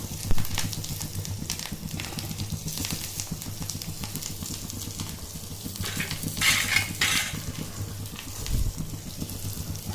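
Mustard seeds, curry leaves and green chillies sautéing in hot oil for cucumber raita, giving a steady crackling sizzle with occasional spoon scrapes and clinks against the pan, close by.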